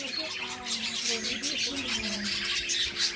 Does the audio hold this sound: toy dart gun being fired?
no